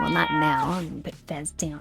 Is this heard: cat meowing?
yes